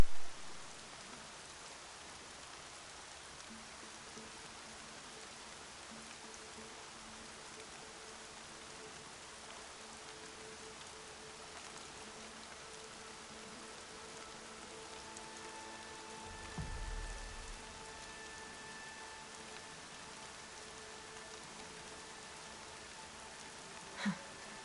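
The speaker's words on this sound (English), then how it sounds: "Rain's not so bad." Steady rain falls in the video game Horizon Zero Dawn, a soft, even patter that continues throughout with only a faint low thump near the middle.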